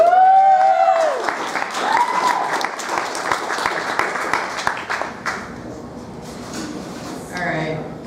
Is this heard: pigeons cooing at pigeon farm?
no